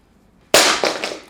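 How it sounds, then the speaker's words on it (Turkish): An Honor Magic 7 Lite phone dropped from head height hits a hard floor with one sharp, loud crack after near silence, followed by a couple of quick bounces and clatters. "Şak diye vurdu yere direkt."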